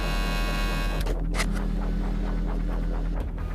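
A plastic 3D printer runs close by with a steady electrical hum and buzz, joined by faint rhythmic mechanical ticks and whirs as its print head moves.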